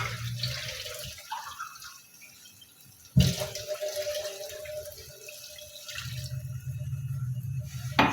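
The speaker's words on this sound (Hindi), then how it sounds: "1 कप पानी ऐड कर देती हूँ।" A cup of water is poured into a pan of keema aloo curry, splashing in short bursts with a brief loud pour midway, then settling into a quieter liquid sizzle.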